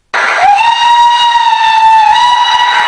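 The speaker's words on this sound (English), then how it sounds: "Suddenly, Engine 17 let out an ear-piercingly loud whistle." A steam locomotive called Engine 17 lets out an ear-piercingly loud whistle, one sustained, sliding-up shrill blast held steady for nearly three seconds, close and alone.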